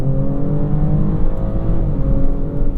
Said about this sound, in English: that subtle sound of turbocharged inline 6